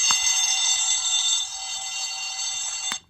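Fire alarm triggered by an easy-style push button sounds loudly, a shrill continuous electronic tone with a short click at the start, the tone dropping slightly halfway and then cutting off near the end.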